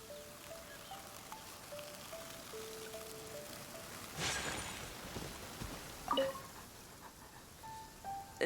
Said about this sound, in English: Let us find shelter from the rain